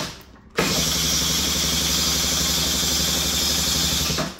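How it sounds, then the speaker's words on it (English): A scooter with a faulty auto-choke cranks loudly and continuously for about four seconds without catching, its starter whirring and the engine sputtering in a steady rhythmic churn before cutting off. "I want to show you what a bike with a choke that's not functioning properly sounds like"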